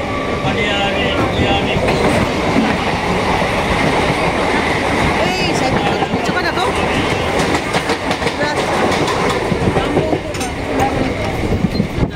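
A train runs steadily on rails near Kolkata, with continuous loud rumbling and rhythmic clickety-clack of wheels over track joints, heard close from inside a carriage throughout.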